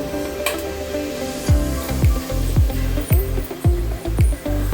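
Chicken pieces frying in a pan for a chicken pickle make a loud, close sizzle broken by regular scraping strokes of a spatula, roughly every half second, with no talk over them.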